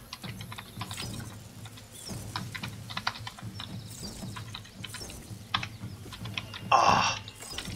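Rapid typing on a computer keyboard while playing the typing game Epistory, steady clusters of close key clicks running throughout with a brief louder burst near the end, no talking.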